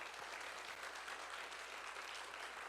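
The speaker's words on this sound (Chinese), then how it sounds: "再一次的拍手来欢迎他" A church congregation at a Sunday service claps to welcome a new member, a steady, dense round of applause from many hands in a large room, moderately distant and unbroken for the whole stretch.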